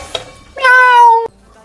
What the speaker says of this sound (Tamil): ஐயோ, பூனை வந்துட்டு இருக்குதா?